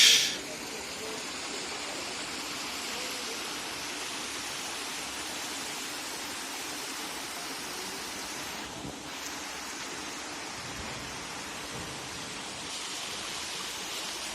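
Water of the Shoiloprapat waterfall in Bandarban rushing downhill, a steady, broad hiss of flowing water lasting throughout, close and fairly loud, with a brief sharp knock at the very start.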